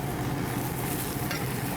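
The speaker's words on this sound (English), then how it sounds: "You can hear them sizzling there." Steady crackling sizzle of breadcrumbs frying in a pan, close and continuous with no talking.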